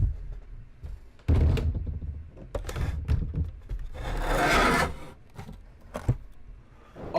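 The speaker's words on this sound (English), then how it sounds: "he just shakes up the whole desk, causing everything to get knocked around" A gamer shaking a wooden desk in a rage while playing Fortnite, with repeated knocks, rattles and scraping thuds of gear bumping around, plus a rushing, scuffing burst midway, all fairly close and uneven.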